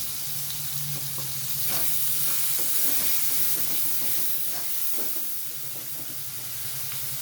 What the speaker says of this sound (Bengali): আমি বেশ কিছুক্ষণ টমেটোটা কষিয়ে নেব।